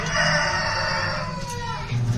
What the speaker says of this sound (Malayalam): വെള്ള കളറില് ഷൂ ഇട്ടൊരു കോഴിയുണ്ട്